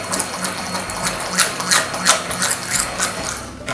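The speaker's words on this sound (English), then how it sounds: "This is making a funny noise because there's not a lot of soap in here when I'm using the mixer." A handheld mixer whirs and clatters in a container holding only a little soap, a rough, uneven mechanical chugging with rhythmic surges, close and loud, with no talking.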